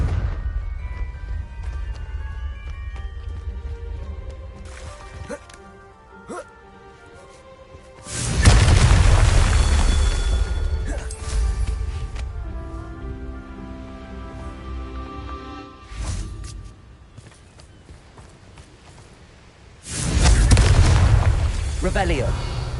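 Confringo blasting-spell explosions in the Hogwarts Legacy video game, two heavy booming bursts several seconds apart over a continuous game music and ambience bed.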